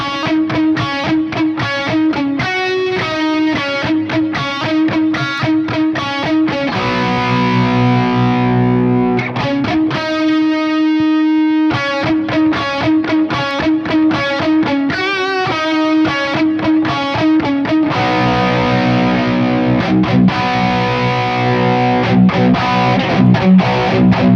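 Electric guitar playing crunch-tone riffs and sustained chords through an amp with its fat switch engaged, thickening the mids. Loud and steady, with brief pauses between phrases and no talking.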